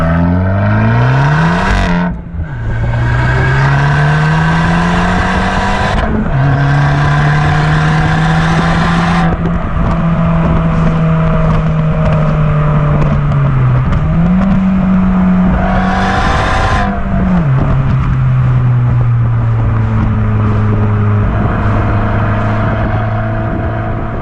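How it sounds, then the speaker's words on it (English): An Abarth 595 Competizione with a Record Monza exhaust revs hard and loud, its engine note climbing through repeated gear changes, dropping sharply between shifts, then droning on at a steady high pitch. "It's got a record Monza exhaust system as well, which again, just the exhaust just pops and cracks in every single gear"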